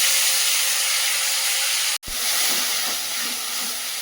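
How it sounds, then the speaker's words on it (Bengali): Whole garam masala spices, cloves, cinnamon and cardamom, hit hot oil with a loud, dense, continuous sizzle, broken by one abrupt instant cutoff before the hissing resumes steadily; no talking. "তেলের মধ্যে দিয়ে দেবো গোটা গরম মশলা, লবঙ্গ, দারচিনি, এলাচ।"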